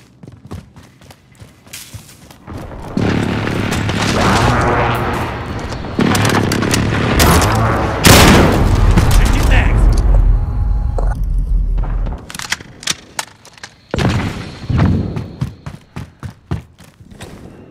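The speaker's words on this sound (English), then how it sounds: "Allied precision airstrike incoming." Airstrike explosions in Call of Duty: Modern Warfare, a rolling series of loud booms and blasts that builds to a heavy peak midway, then breaks into scattered sharp bursts and thuds.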